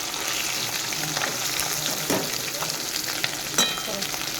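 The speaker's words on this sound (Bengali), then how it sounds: "এভাবে কড়া করে মাছটাকে ভেজে নিতে হবে" Bogo fish frying crisp in hot oil, a steady dense sizzle with occasional clatters from turning the pieces, loud and close with no talking.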